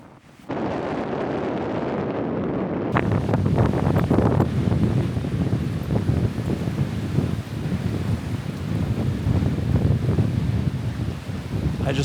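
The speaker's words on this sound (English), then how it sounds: "I just love the peacefulness of the ocean." Wind and ocean waves at a fjord waterfront in New Zealand, a steady broad rush of wind buffeting the microphone with surf washing in underneath, loud and continuous after a brief quieter start.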